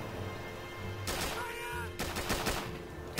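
Machine gun fire from Call of Duty: Modern Warfare on the Nintendo DS, made of dense rapid bursts from the handheld's compressed game audio mixed over steady background music.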